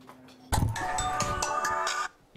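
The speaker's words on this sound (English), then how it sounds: "It began when Thomas Allen got a phone call from somebody claiming there was a problem with his Social Security card" A telephone rings with a loud electronic ringtone, one burst of about a second and a half breaking out of near silence and then cutting off.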